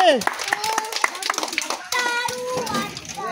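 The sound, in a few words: children clapping hands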